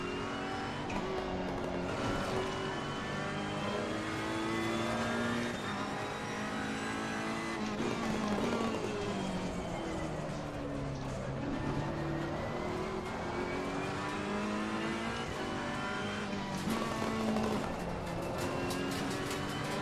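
A race car in the game Assetto Corsa Competizione on the Spa circuit revs continuously through the gears, engine pitch climbing, dipping and rising again for about twenty seconds, with no talk over it.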